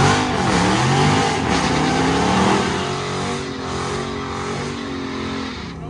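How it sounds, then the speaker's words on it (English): A Dodge Charger 392 and a Challenger RT in a drag race, engines roaring loudly and steadily throughout, swelling in the first half, then easing slightly as the cars pull away, with no talk. "Got a 392 Charger versus a Challenger RT. Let's see what happens here."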